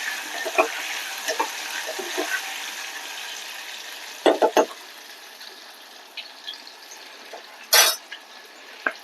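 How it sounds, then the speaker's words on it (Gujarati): Potatoes and sweet potatoes go into a pan of hot oil for undhiyu and are stirred, giving a soft sizzle with scattered clatters, a quick cluster of metallic knocks midway and a later burst of scraping, with no speech. "હવે આપણે આ બટેટા અને શક્કરિયા પેલા આપણે ઉમેરી દેસુ હલાવી લેશું"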